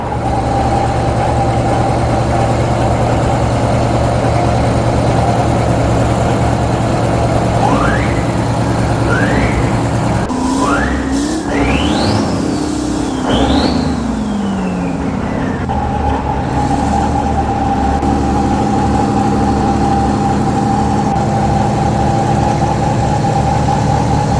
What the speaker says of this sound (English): 4 legendary inline-6 engines working in unison to spin a common gearbox, creating a monstrous 24-cylinder configuration.